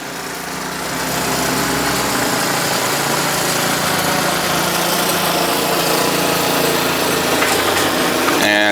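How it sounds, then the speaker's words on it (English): A lawn mower drones steadily in the background, a constant mid-level engine hum that rises after the first second and holds without a break. "sorry about the mower in the background. I guess they're just going to sit there"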